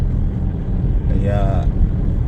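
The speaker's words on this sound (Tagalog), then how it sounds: "So medyo may kasamang malakas na hangin," Strong snowstorm wind buffets the microphone in a steady low roar throughout. A faint tonal whine rises briefly in the middle.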